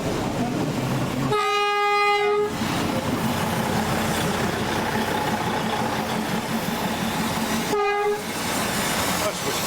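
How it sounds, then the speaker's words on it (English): A diesel train on the Darjeeling Himalayan Railway passes close by, sounding two loud horn blasts, one long and one short, over a steady rumble of wheels and engine. "So the other train is coming down"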